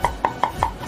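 A cleaver chops sand ginger, star anise, mushrooms, red dates and shallots on a board for a Cantonese roast goose marinade. Four sharp, evenly spaced chops land close and loud, with no voices.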